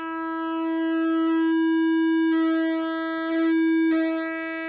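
A Plinky synthesizer plays a sustained pulse-width-modulated tone, a steady bright buzzy pitch held for several seconds with rich stacked harmonics, loud and alone with no talking.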